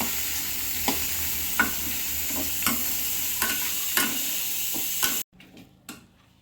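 Tomatoes for chutney are sautéed slowly in a pan, giving a loud, steady sizzle with regular taps of a stirring spoon about every second; the sizzle cuts out abruptly near the end, leaving a few faint knocks.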